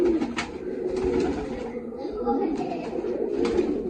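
Several prize-winning pigeons up for sale coo in a low, continuous, close murmur, with a person talking nearby.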